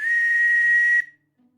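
A whistle carved from a carrot is blown in one steady, shrill breathy tone lasting about a second, close and loud, then cuts off into near silence.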